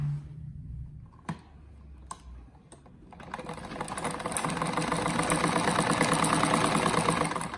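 A sewing machine without reverse stitches fabric scraps for an apron, starting with a few separate clicks and short bursts, then settling into a steady, close, rapid mechanical whirr that grows louder and continues to the end.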